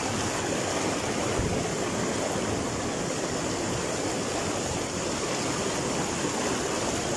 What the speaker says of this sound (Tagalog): Dadaan tayo sa malakas na agos ng tubig.